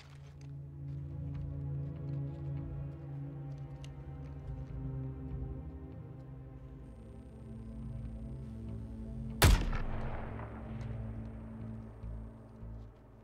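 A single sharp gunshot from a sniper-style rifle in the video game Suicide Squad: Kill the Justice League, ringing out loud and close over a steady game ambience and music bed, with a decaying tail afterward.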